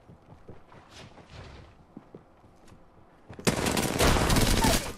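Automatic weapon fire in the battle royale game Apex Legends: scattered shots and small sounds at first, then a sudden loud, dense burst of rapid gunfire that fills the last second and a half.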